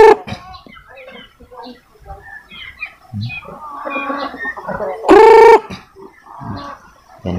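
Hens cluck and murmur in short, scattered calls close by, including a brooding hen with five chicks, with one louder squawk rising above the rest midway through.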